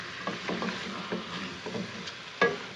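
Kienyeji chicken being stirred as it fries in a pan, with scraping stir strokes repeating every half second or so over a steady close sizzle, one sharper clank near the end.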